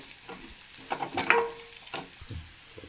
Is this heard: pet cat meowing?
no